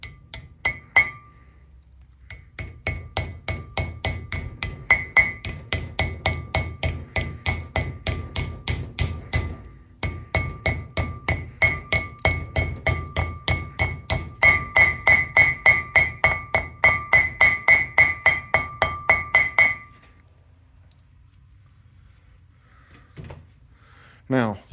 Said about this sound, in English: I'm just going to use the hammer.